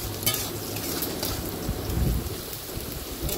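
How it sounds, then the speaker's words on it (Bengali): Potatoes fry in mustard oil in a wok with a steady, dense, crackling sizzle like heavy rain, broken by a few faint stirring knocks, and no voices. "আর আলুটা হালকা হালকা করে ভেজে নেব।"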